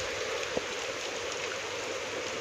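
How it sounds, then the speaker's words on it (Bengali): Heavy rain pours down by a roadside near a cremation-ground temple, where water has pooled, making a dense, steady hiss throughout with one faint knock. "প্রচণ্ড জোরে বৃষ্টি হচ্ছে"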